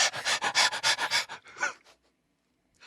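A person imitates a dog lapping water with its tongue, making a quick rhythmic series of breathy, panting bursts that trail off into silence.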